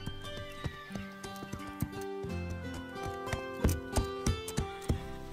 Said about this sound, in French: Zoé monte son nouveau cheval et elle ose le faire devant la pauvre Pepper